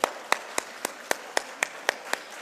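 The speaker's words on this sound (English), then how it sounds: "With a huge round of applause," Sparse, evenly spaced claps, about ten sharp hits in a steady rhythm, welcoming a speaker at a business school event in Bangalore; the claps are distinct and fairly close rather than a full crowd roar.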